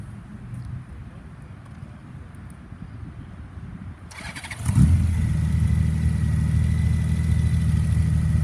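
A 2017 Honda Goldwing motorcycle engine starts, cranking briefly after a quiet lead-in and then catching into a steady, close, throaty idle that holds to the end.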